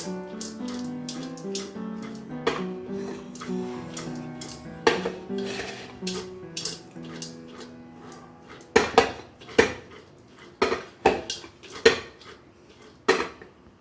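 A metal biryani pot is shaken and jostled, giving hollow clanks and rattling lid knocks, sparse at first, then a series of loud, close, rhythmic clatters with no talk.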